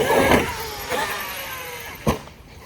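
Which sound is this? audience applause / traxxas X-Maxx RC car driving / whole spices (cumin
traxxas X-Maxx RC car driving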